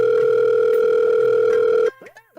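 Telephone dial tone, a loud steady continuous hum heard while phoning an owner, cutting off abruptly near the end and followed by faint clicks and handling noise.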